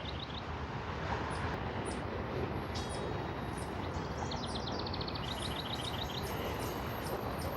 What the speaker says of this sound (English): the train is slowing down, so it's at least being a little bit quieter